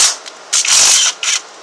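A half-inch drive ratchet works on the AC compressor of a 2012 Jeep Liberty, making three close bursts of rapid ratcheting clicks separated by brief pauses, loud and without speech.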